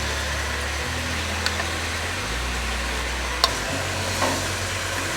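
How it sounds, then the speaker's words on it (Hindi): Chicken frying with ginger garlic paste in oil in a karahi gives a steady close sizzle with faint stirring, under a low rumbling hum and a couple of small knocks, with no talking. "इसको थोड़ी देर के लिए फ्राई कर लेंगे"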